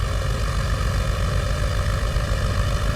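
Fokker F.VII propeller plane in Flight Simulator X on its takeoff roll, a steady loud droning engine and propeller roar that holds even and unbroken throughout with no talk.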